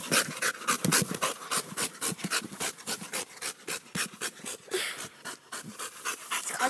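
A dog pants rapidly and steadily, close by, with quick rhythmic breaths in and out and no other sound.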